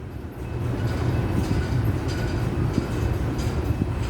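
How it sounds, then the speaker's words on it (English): A Union Pacific manifest freight train rolls past, including MWCX and CASX cars, with a steady low rumble of wheels on rail and faint clicks, loud and continuous throughout. "I never seen those train cars on the part of this freight train"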